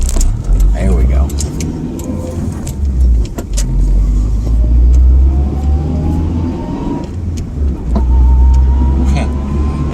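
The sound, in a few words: car engine revving in second gear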